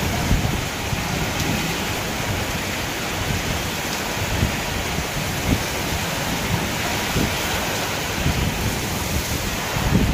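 Heavy, wind-driven monsoon rain pours steadily in a dense, continuous roar, with occasional low rumbles that may be thunder; no voices are heard.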